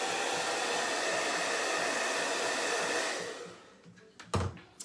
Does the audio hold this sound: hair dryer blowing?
yes